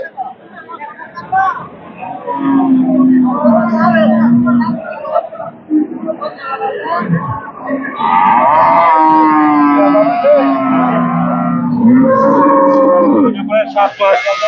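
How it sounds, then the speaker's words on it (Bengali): A pregnant cow, six to seven months along, lets out long, loud, close moos during a pregnancy check at a cattle market, several drawn-out calls overlapping with people talking nearby. "6-7 মাসের একটি প্রেগনেন্সি গাভী চেক চলছে।"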